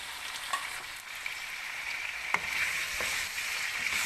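Chicken karahi with tomatoes being fried in a pan, a steady close sizzle with occasional crackles and faint stirring clicks, no talk.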